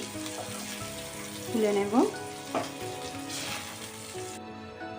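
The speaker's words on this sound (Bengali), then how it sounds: "চিংড়ি মাছ ভাজা হয়ে গেছে, চিংড়ি মাছটা এবার আমি" Shrimp frying in hot oil, a steady close sizzle with a couple of louder crackling bursts midway; a voice speaks briefly over it near the end.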